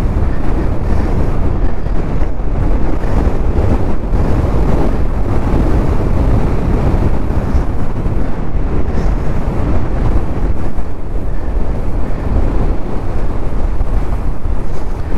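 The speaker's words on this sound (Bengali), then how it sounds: "প্রচণ্ড হাওয়া হচ্ছে।" Strong wind buffets the microphone on a mountain road to Dhumba Lake in Mustang, a loud, continuous rumbling roar that fills the whole stretch with no voices.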